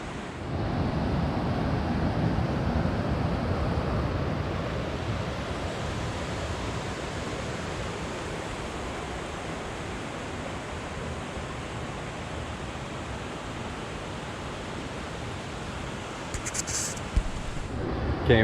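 A waterfall in a canyon at Lake Oroville, a steady broad rushing roar of falling water that holds evenly throughout, with no talk.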